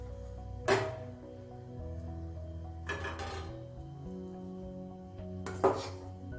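A spoon presses a green banana mixture onto a plate greased with mustard oil, giving three sharp clinks spaced a few seconds apart over a steady tonal background.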